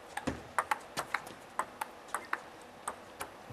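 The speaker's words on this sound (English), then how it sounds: "It's the ball vibrating right into the wood of the blade without a sponge sort of softening that and springing the ball at all." A table tennis ball strikes a long-pips blade with no sponge during a women's singles match, giving sharp, hollow, wooden ticks in an irregular rally rhythm, faint against a quiet hall.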